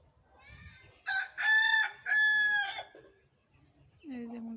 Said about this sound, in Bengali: এই যে মুরগিটা